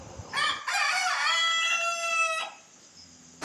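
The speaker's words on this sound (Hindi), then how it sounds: "इधर हमारा मुर्गा अपनी मॉर्निंग ड्यूटी पूरी करते हुए" A rooster crows at dawn in the countryside: one loud, close cock-a-doodle-doo with a long sustained final note, preceded by a short clucking lead-in and followed by quiet.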